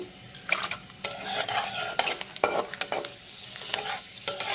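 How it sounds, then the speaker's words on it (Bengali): Peanuts, almonds and cashews fry lightly in hot oil, a low crackling sizzle under frequent scraping and clinking stirs of a spoon against the pan, close up with no talking. "এখন আমি ফ্রাই করে নেব চীনা বাদাম আর কাঠবাদাম হালকা করে ফ্রাই করে নিতে হবে"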